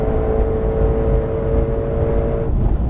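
A 2020 Ford Mustang Shelby GT500 roars at high speed with a steady, sustained engine drone and a tonal whine, loud and continuous, easing off near the end.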